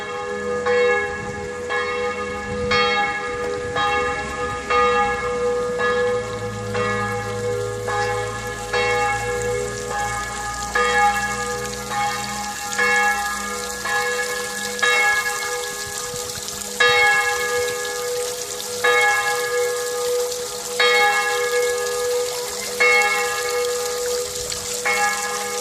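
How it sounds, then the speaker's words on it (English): Church bells ring right beside a house at six o'clock, a sustained, layered peal of repeated strokes that hangs and overlaps continuously, close and loud, with a faint patter like light rain beneath. "they got church bells right next to their house"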